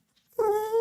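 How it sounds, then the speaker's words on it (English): A small dog gives a short, high whine that starts suddenly after a near-silent moment and holds as one drawn-out, clear cry close by. "Run along, little doggy."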